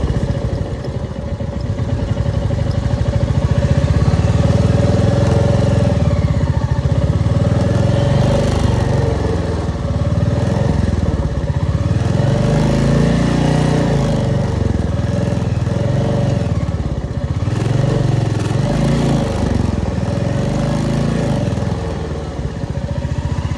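A Royal Enfield motorcycle ridden on a muddy road, its engine thumping loud and close throughout, the throttle rising and falling in repeated surges without any talk.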